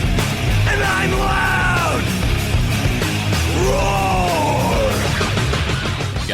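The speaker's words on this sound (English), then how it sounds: "I'm yelling and screaming, and I'm loud" A man yells and screams loudly in a car insurance ad, with two long, strained bellowing cries over a dense, constant wall of heavy metal style music.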